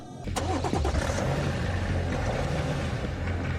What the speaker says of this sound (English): It appears to be a normal BMW 5 Series until you start it up.